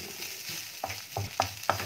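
Pork sisig with pepper is stirred in a pan, a soft frying sizzle broken by a few quick scrapes of the spatula, close and fairly quiet.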